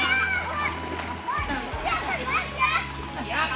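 Children swimming and splashing in water, repeated splashes and churning water mixed with kids' shouting and chatter nearby, lively and close throughout.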